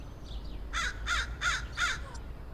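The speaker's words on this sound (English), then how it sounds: "Crows!" Four harsh crow caws in a steady, evenly spaced series, moderately loud and a little distant, over a low background rumble.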